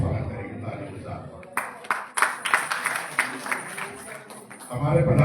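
Audience at a public event in Jammu welcomes guests with applause, a burst of claps starting mid-clip and continuing for several seconds, mixed with crowd murmur and a voice speaking over it.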